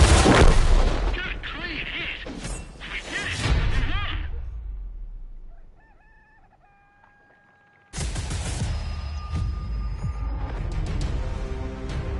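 Tank gunfire in the World of Tanks video game: heavy booming cannon shots and rumbling battle noise, a lull of near silence with faint tones, then loud sustained combat sound returns; someone talks over the first part.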